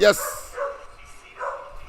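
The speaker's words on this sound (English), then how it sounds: "I know you're hearing a dog in the background" A dog barks in the background, with yelps at the start and end, under a person talking over a live broadcast.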